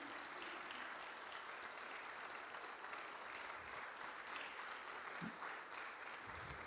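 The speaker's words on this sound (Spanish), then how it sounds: "¿Le damos un aplauso al Señor?" A church congregation applauds steadily through the whole stretch, a dense, even wash of many hands clapping at moderate distance with no speech over it.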